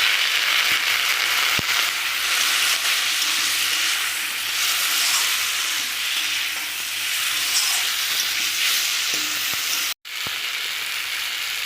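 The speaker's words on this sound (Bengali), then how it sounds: "ওই জন্য এখন আমি লবণ দিলাম আর একটু জল দেব, দিয়ে আমি আর একটু কষাবো" Green tomatoes stir-frying in a pan with salt and a splash of water for a fish curry, a loud steady sizzle with occasional stirring scrapes and taps, close by, broken by a brief cut near the end.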